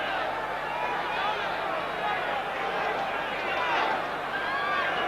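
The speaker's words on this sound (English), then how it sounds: "Crowd comes alive right at the get-go" A boxing arena crowd of around 20,000 roaring at the start of a round, a broad, sustained wash of cheering and noise that swells midway, with an announcer's voice over it.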